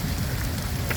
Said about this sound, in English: It rains here.